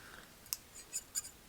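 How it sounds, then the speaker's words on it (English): Several crisp snips of sewing scissors cutting through knitted fabric, close by in a quiet room, coming in quick separate bursts. "My sewing scissors."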